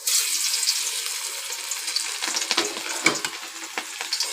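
Steady hissing sizzle of sand fish frying in hot oil in a kadai, with a few sharper crackles and pops partway through, close up and continuous.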